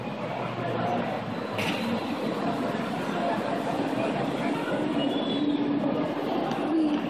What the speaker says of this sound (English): Monorail coming in. Here it comes.